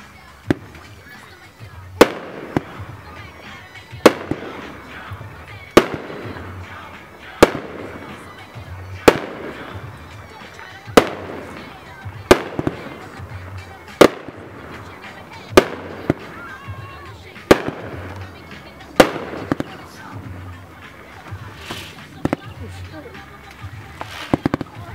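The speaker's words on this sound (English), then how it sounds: "World class. Beauty and the Beast, 500 grams," World Class Beauty and the Beast, a 500 gram 20-shot firework cake: a steady series of sharp, loud launch bangs spaced about every one to two seconds, each followed by faint crackle, heard outdoors.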